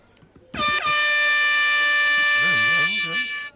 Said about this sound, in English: what is this an air horn?